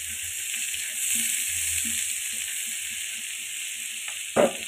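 Chopped onions with green chillies fry quietly in a pan. The sizzle is soft and steady under a constant hiss, with faint stirring scrapes and one brief knock near the end. No one speaks.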